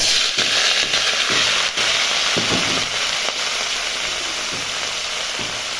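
Greens tossed into hot oil with dry red chillies and black cumin seeds give a loud, steady sizzle that runs unbroken, with a few sharp crackles and spits from the pan.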